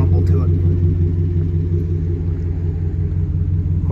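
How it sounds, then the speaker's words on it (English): A 2018 GMC Sierra pickup with an ALC performance dual exhaust idles with a deep, steady low rumble. The sound is loud and close and holds constant throughout. "it does have an upgraded exhaust, performance exhaust from ALC. And you can hear it just has a really nice kind of rumble to it."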